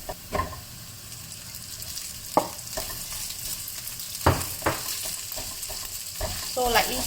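Rice for laksa fried rice sizzles steadily in a hot pan, broken by repeated scraping and stirring strokes of a utensil, close and fairly loud, with no talking.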